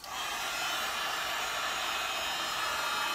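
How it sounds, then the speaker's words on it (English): A heat gun starts up and blows steadily on the cover of an arch support insole, a constant loud airy whoosh with a motor hum and no pauses. "And then what you do is you take a heat gun"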